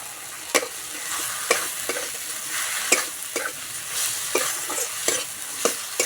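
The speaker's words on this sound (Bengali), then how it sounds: "এবার দেবো কেটে রাখা পেঁয়াজ" Chopped onions frying in a pan with turmeric and a little chilli powder, giving a steady close sizzle with a stirring scrape roughly once a second.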